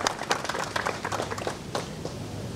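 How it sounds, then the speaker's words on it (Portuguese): A crowd claps and applauds steadily for a couple of seconds for a gaucho musician and a group, moderately loud, a dense patter of many hands. "Uma salva de palmas aí"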